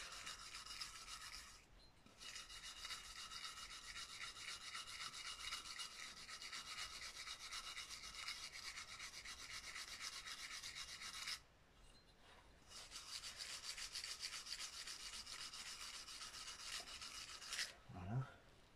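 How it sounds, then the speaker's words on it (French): Steady rasping scrub of a wire brush on engine magnets during a full engine cleaning, close and continuous with two short pauses near 2 and 12 seconds and a brief knock at the end. "Un petit coup de brosse métallique, ça fera pas de mal."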